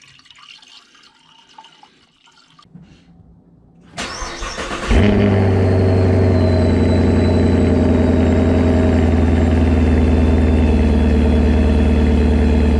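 A quiet moment, a brief cranking, then a supercharged Camaro engine catches and settles into a loud, steady idle nearby.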